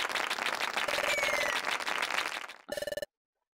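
Crowd applause from the game Pokémon Mystery Dungeon: Explorers of Sky, a dense wash of clapping that fades out and then gives way to a brief ringing chime before silence.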